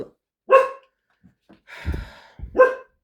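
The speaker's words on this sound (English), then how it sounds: "my dogs are going to drive me insane today" A dog indoors barks twice, loud and close, with a panting breath between the barks.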